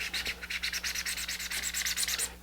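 Sandpaper of 220 grit rubs over a rocket kit's surface in quick, even back-and-forth strokes, close up and steady, about a dozen rhythmic scratchy passes with no talking.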